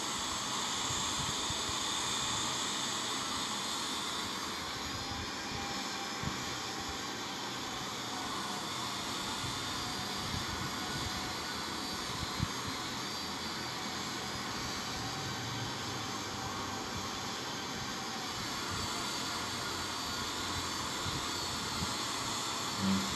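Steady jet engine hiss from a Boeing 787-9 in the Infinite Flight game, throttled back on approach to Southern California, a constant even whoosh with no talk.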